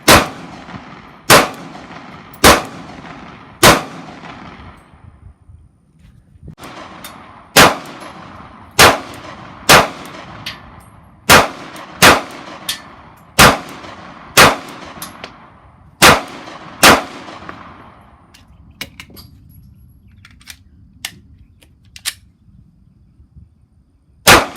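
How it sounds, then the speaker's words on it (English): Glock G43X and G48 pistols fire at a shooting range, about seventeen loud sharp cracks spaced a second or so apart in short strings, each with a brief ringing echo. "As you typically would expect from Glock, it shot quite well."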